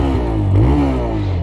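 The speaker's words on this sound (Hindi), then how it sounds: "जो है इसका एग्जॉस्ट नोट।" A TVS Raider 125 motorcycle's exhaust note rises and falls in a brief, loud rev over a steady engine drone, heard close up.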